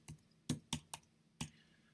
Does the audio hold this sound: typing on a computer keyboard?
yes